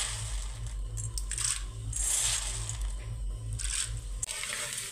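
Sago pearls hit hot oil and fry with soft, bubbling crackles and bursts of sizzling hiss that swell and fade over a low steady hum, quiet and close.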